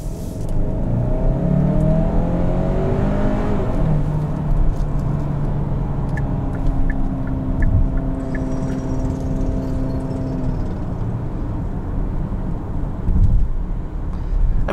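A Kia Sorento SX X-Line with a turbo four-cylinder and dual-clutch transmission pulls steadily, its engine note rising and stepping through quick gear changes, heard close from inside the cabin with continuous road and engine hum.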